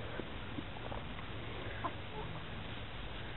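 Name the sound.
hens clucking in the morning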